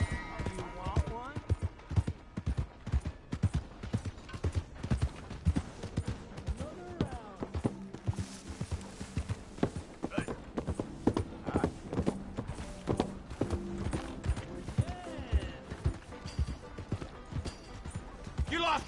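Horse hooves clip-clop in a steady, lively rhythm in Red Dead Redemption 2, mixed with game voices and ambient bustle throughout.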